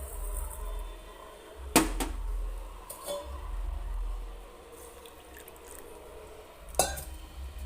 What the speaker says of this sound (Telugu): రెండు కప్పులు పంచదారకి అరకప్పు వాటర్ పోసాను